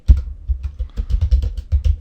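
Keys tapped in short irregular bursts on a computer keyboard while entering text in Adobe Illustrator, close and fairly soft, with brief pauses between clusters of clicks.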